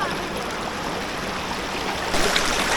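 The Pala River rushing beside a natural swimming pool near Kalimpong, a steady broadband wash of flowing water close by that swells slightly louder near the end.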